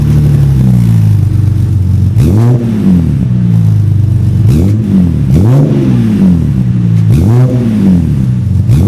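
A BMW with a custom sports exhaust fitted with Helmholtz resonators revs repeatedly, with four loud, close blips rising and falling over a deep idle rumble.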